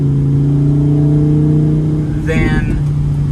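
A Lamborghini Huracan EVO Spyder engine runs with a steady, close, humming drone that holds throughout, with a brief burst of rattly higher-pitched noise near the end.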